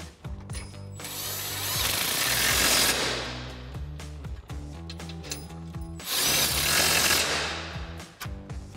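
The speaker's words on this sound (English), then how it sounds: "we're going to go ahead and tighten down our bolts" An impact wrench with an 18 mm socket tightens bolts on a 2019-2021 Silverado 1500 front bumper frame rail, firing two loud hammering bursts a few seconds apart, with short ratcheting and handling clatter between them.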